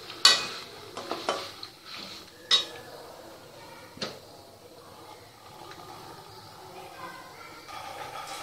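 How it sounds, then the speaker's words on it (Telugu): Brinjal with dried red chillies is stir-fried in a pan for chutney, giving a few sharp clinks and scrapes of a spatula against the metal early on, then a softer, quieter stirring and faint sizzle. "రెండు నిమిషాల పాటు వేయించి స్టవ్ ఆఫ్ చేసుకోవాలి."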